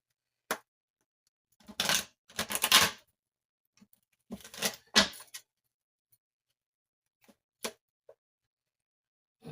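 Tarot cards are shuffled in a few short riffling bursts, close and soft, separated by quiet gaps and occasional single light taps.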